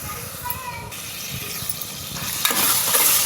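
Ingredients frying in a pan for egg biryani, a continuous hissing sizzle with stirring scrapes that swells slightly toward the end, close and without talk.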